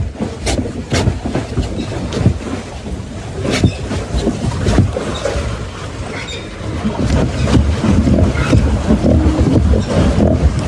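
Boat moving in strong wind, with loud buffeting gusts, rattling knocks and rumbling water noise that grows stronger toward the end, no talking.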